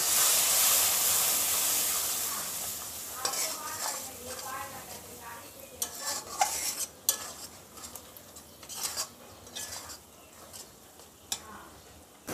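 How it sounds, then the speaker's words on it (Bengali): Spice masala for mutton kosha sizzles loudly at first, then a spoon scrapes and taps the pan in irregular strokes as it is stirred and fried with a little water. "একটু জল দিয়ে মশলাটাকে ভালোভাবে কষিয়ে নেব।"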